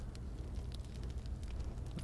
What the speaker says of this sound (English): Hear the crackling of the fire.